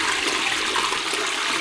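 A toilet flushes with a blue in-cistern block fitted, a loud close rush of water pouring steadily into the bowl throughout, with no talking.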